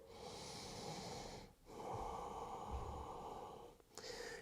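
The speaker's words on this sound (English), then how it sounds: "Couple breaths here." Steady, close breathing fills a quiet room during a yoga forward bow, long sustained breaths with one brief pause partway through and a short gap near the end.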